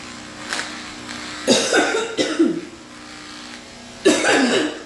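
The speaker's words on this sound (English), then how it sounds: "Don't cough and hiccup at the same time" A person coughing and hiccuping at the same time: a few harsh coughing bursts, close and loud, with jerky catches in the breath between them and a low electric hum underneath.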